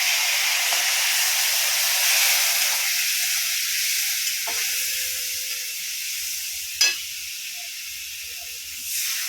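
Turmeric and spices sizzle and hiss steadily in a hot pan, with a couple of faint scrapes and one sharp clink of a stirring utensil, no talking.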